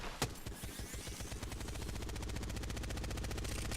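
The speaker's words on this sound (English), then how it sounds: "If you can get a good wind-up time on somebody and they don't know it, you can mow a whole team down." An Apex Legends wind-up gun spins up and then fires in a rapid, continuous stream of shots that grows denser and louder, loud and close, mowing down a whole squad, with no voices over it.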